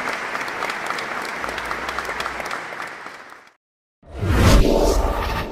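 Strong applause rises from a church congregation for about three and a half seconds, fades, breaks into a short silence, then returns loud and full with a whooshing surge.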